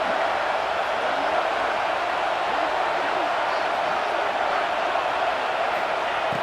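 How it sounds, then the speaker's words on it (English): Stadium crowd noise in the video game EA Sports College Football 26 forms a steady, dense roar of a fired-up crowd that holds at a constant level throughout. "this crowd is fired up. Listen to this noise here."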